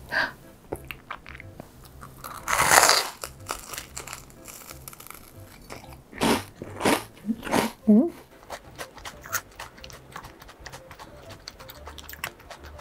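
Someone bites into fried bread served alongside a beef tripe stew, with a few crisp crunches followed by softer chewing up close, interrupted by brief talk.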